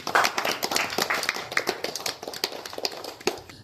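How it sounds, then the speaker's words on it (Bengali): An audience at a district cricket tournament gives a short round of applause, a scattered patter of hand claps that thins out over a few seconds, with faint voices nearby. "বাকিরা করতালি দেব একটু।"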